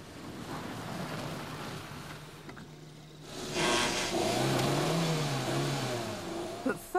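A car drives on an icy track in Norway, its engine note rising and sweeping in the second half over a steady rushing noise, with a brief quieter gap in the middle.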